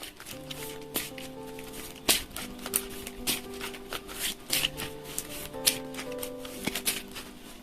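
Oracle and tarot cards are shuffled close up in quick, repeated riffling bursts with soft slaps of the deck, set against quiet background music with sustained tones.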